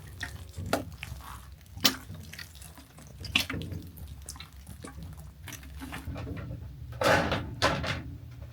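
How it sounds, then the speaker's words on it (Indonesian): Water poured over vegetable seedlings such as cucumber, lettuce and basil in a greenhouse garden, a close splashing and trickling stream with a few sharper splashes and a louder gush near the end, no voices. "terus kita siram dulu, kasih air sedikit"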